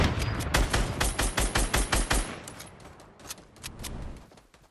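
Rapid bursts of gunfire from a video game shooter, a dense run of sharp repeated shots for about two seconds, then sparser scattered reports trailing off at moderate volume with no talking.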